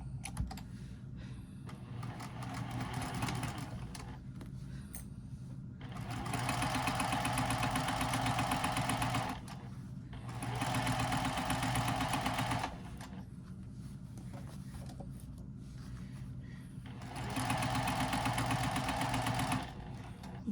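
Sewing machine stitching along the vinyl side of a triangular tetra wristlet pouch at 2.5 to 3 millimeter stitch length, three loud steady runs of rapid mechanical whirring separated by pauses with quieter handling noise.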